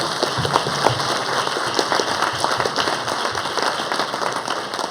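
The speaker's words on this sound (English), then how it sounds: "Let's give them a round of applause, please." Steady applause from an audience at a college presidents' event on higher education in the region, a dense even wash of clapping sustained throughout without any talk over it.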